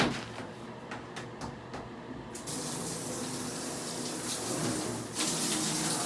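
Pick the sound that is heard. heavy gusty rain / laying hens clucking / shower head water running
shower head water running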